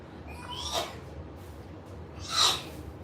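Two short sneezes, a bright burst early on and a louder one about two seconds later, over faint background hiss.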